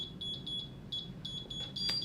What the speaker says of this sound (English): You see it's doing a special beep 3 times when the reader received the arming command.